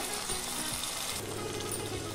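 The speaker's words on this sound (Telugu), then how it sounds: "మసాలా బాగా వేగి ఆయిల్ పైకి తేలినప్పుడు ఇందులోకి హాఫ్ గ్లాస్ వాటర్ వేసుకోవాలి" Half a glass of water poured into frying paneer masala in a pan, a soft, continuous sizzle and bubbling that stays steady and fairly faint throughout, with no voice.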